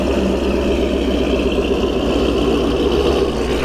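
Drag car with a supercharger blower idling at a drag strip during test and tune, a steady low rumbling engine drone that stays even and loud throughout.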